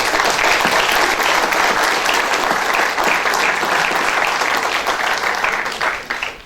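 An audience breaks into loud, sustained applause, many hands clapping in a thick, continuous roar that stays strong before tapering slightly at the end.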